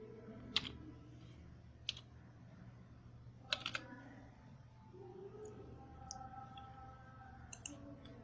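Someone types a captcha code on a computer keyboard while filling in an online railway recruitment application. A few faint, scattered keystroke clicks sound over a low room hum, with no voices.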